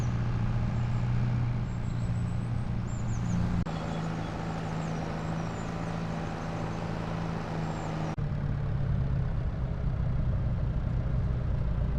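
Tractor engine running in a farming video game, a steady low idling drone with a constant hum that shifts pitch slightly twice, continuous and unaccompanied by talk.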